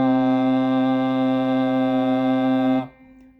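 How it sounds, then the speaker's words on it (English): A single sustained piano note, middle C, rings steadily and loud for nearly three seconds, then cuts off abruptly into near silence. "this is a piano in front of me, and I'm just going to play the middle C"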